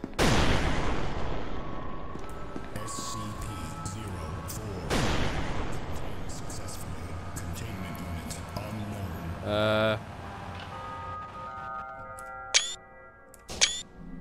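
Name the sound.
grenade explosions in video game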